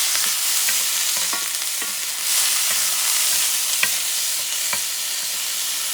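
Brined green peppercorns fry in a pan for a peppered shrimp noodle dish. The sizzle is steady and bright, broken by scattered pops and a few stirring scrapes, and no one speaks.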